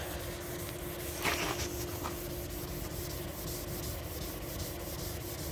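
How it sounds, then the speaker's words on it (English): A green Scotch-Brite pad scrubs the old paint on a 1954 Chevy truck, giving a steady, faint rubbing hiss throughout with one brief louder scrape. "Personally, I just use just your regular Scotch-Brite pads."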